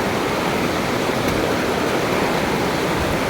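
A waterfall in Caquetá pours with a loud, dense, unbroken rush of falling water, steady and close throughout with no voices.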